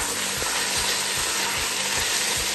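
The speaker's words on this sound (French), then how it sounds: "Nous allons faire griller notre viande." Seasoned chicken sizzles loudly in a pan, a dense, steady crackling hiss, with regular low thumping pulses repeating about every half second beneath it.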